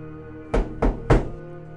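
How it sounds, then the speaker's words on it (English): Three loud, heavy bangs on a door, spaced roughly a quarter second apart, standing out over a quiet steady hum. "I almost didn't even hear the banging on my door at first."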